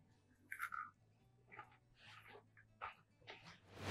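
Crunchy bites and chewing of homemade cinnamon star cookies, crisp outside and soft inside, heard close up in several short, quiet bursts with pauses between.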